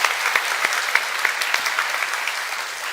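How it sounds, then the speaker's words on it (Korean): A church congregation applauds during a Sunday worship service, a steady, dense wash of many hands clapping at moderate distance for about three seconds, with no talk over it. "여러분, 수고한 우리 청년들에게 격려의 박수 해주시면 좋겠습니다."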